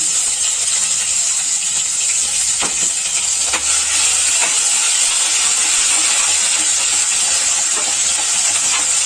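Mustard seeds, cumin and ginger-chili paste roasting in a hot pan give a steady, loud sizzling hiss with a few faint clicks of stirring, no voices.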